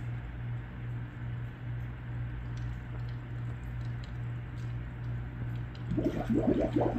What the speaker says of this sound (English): Idea is you drop it in, blow through the hose, look for bubbles.